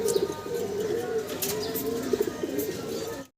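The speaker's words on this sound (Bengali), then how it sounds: "কি কবুতর দেখতেছি ভাই?" Fancy pigeons coo in soft, repeated throaty phrases close by, with faint chirps and small clicks in a quiet room before the sound cuts off abruptly.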